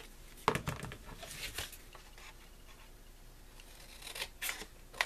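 Scissors snip off excess tape during a mini album paper craft project, giving a few quiet, quick cuts with soft handling rustle between them.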